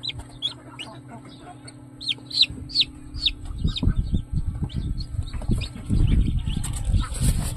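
Newly hatched chicks from an incubator peep in a steady stream of thin, high chirps, close by, while low rustling and handling noise builds up underneath in the second half.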